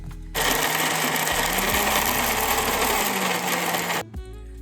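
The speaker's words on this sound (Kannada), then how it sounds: "ಒಗ್ಗರಣೆ ಮಾಡಿರೋಂಥ ಈರುಳ್ಳಿನ ಈಗ ರುಬ್ಕೋತಾ ಇದ್ದೀನಿ" A mixer grinder whirs steadily as it grinds fried tempered onion for onion chutney, a loud continuous motor drone that starts abruptly and cuts off near the end.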